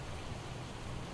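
Rain falls in the Project Zomboid video game as a soft, even hiss of drops pattering on surfaces, faint and continuous for a brief moment with no other sounds.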